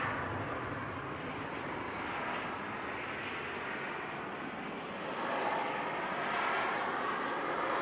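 An easyJet Airbus A319 arriving from Milan at Manchester Airport gives a continuous engine roar that swells slightly toward the end, with no voices over it.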